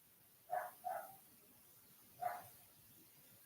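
Three separate barks from a dog somewhere off at a distance, two close together and then one more after a pause, each fairly faint over a quiet background.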